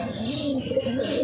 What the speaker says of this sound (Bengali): পায়রাগুলো এই যে পুরো একদম নিচে চলে এসছে